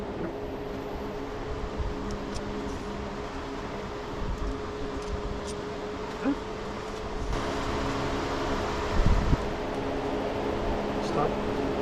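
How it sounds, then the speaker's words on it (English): Electric fan running steadily through a hot, humid room, a constant broadband whir with a faint hum, close and fairly quiet, alone with occasional small knocks. "Sorry for the fan noise."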